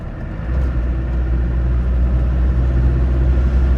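A 1992 Land Rover Defender 90 with the 200TDi diesel engine drives along, its engine a steady close low rumble that swells slightly after the first half second and then holds even.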